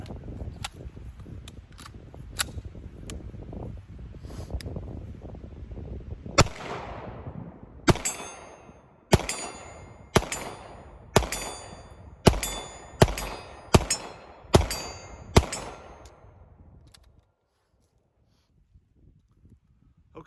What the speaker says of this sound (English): We actually started shooting a little faster at the end and we're still able to make hits at 40 yards.